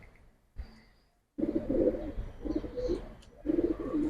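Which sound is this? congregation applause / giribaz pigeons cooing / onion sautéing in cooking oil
giribaz pigeons cooing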